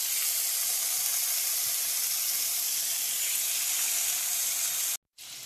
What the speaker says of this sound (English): In your skillet, add olive oil, and we're going to cook our salmon skin side up.